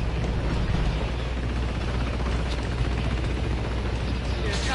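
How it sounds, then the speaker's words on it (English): A video game helicopter chops steadily throughout, a dense continuous rotor and engine roar with faint rumbling game noise beneath it. "Aw, I'm tired of this chopper."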